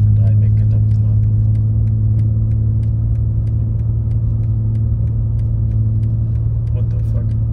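A BMW M3 climbing a snowy mountain road with traction control on, its engine a steady, loud, close low drone that holds unbroken throughout, with faint ticking above it.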